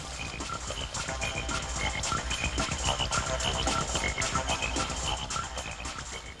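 Frogs croak in a dense garden chorus, many overlapping calls repeating steadily and loudly throughout, with no voices.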